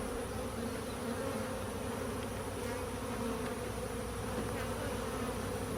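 Bees buzzing around a hive: a steady, dense hum of many insects close by, continuous and unbroken with no voices.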